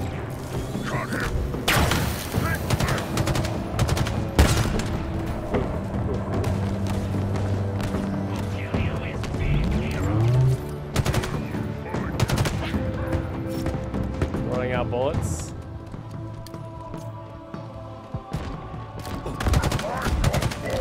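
Video game gunfire from the Halo Infinite campaign, rapid bursts of shots and mechanical clatter running almost continuously over a busy game soundscape, loud and close.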